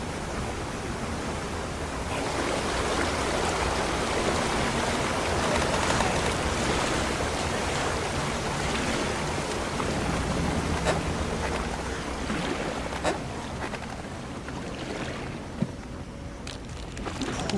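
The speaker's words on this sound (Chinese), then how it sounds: "瀑布里竟然藏着一条水道" Water rushing through a hidden waterway inside a waterfall sets up a steady, dense roar that fills the whole stretch, with no voices over it.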